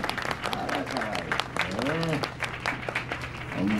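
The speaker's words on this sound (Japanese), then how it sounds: "どうぞ拍手お願いします。" An audience at an outdoor hot-spring festival stage in Katayamazu, Kaga, applauds steadily for a children's musical troupe, the clapping continuous under an announcer's voice and background music.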